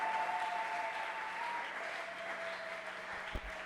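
Church congregation applauding in a steady, sustained wash of clapping that fills the space evenly from start to finish, with a faint hum beneath it.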